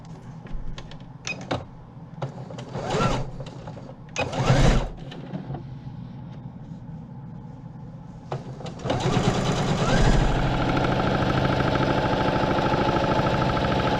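Sewing machine hems the sides of cotton tab curtain fabric, starting after a few handling clunks and then running in a loud, steady whirring stitch close by.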